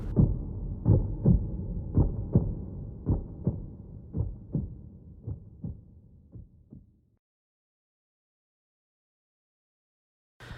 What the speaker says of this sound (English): we hear the same heartbeats but much faster